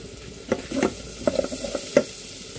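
Corn sautéing in a pan gives a close sizzle broken by several scraping, clattering utensil stirs at irregular intervals, with no one talking.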